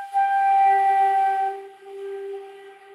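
A flute played with too little air, giving a thin, weak tone: a steady held note with clear harmonics that softens and dulls partway through, alone without talk.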